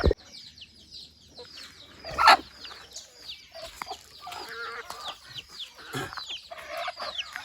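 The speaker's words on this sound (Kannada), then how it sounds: "ನಮ್ಮ ಕೈ ಎರಡು ಕೋಳಿ ಇದೆ ಎರಡು ಕೋಳಿ ಇಟ್ಕೊಂಡಿದ್ದೀನಿ" Chickens cluck and chatter close by in a steady, busy stream of short calls, with one louder squawk early on.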